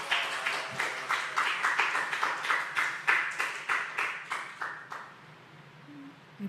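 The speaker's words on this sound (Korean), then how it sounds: "우리 박수로 환영하겠습니다." Church audience claps to welcome a guest lecturer, steady rhythmic unison clapping for about five seconds before fading out, moderately distant in a quiet hall.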